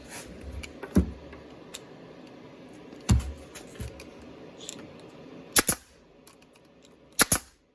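A nail gun fires nails into wood while a DIY controller and headphone stand is built: four sharp, loud snaps spaced a couple of seconds apart, the last two close together, over a faint room hum with no talking.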